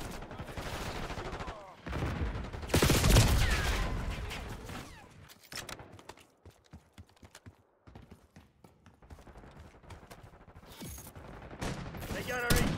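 Gunfire in Black Ops 6 multiplayer, dense bursts of automatic fire and explosions with game announcer voice lines over a loud, busy battlefield mix.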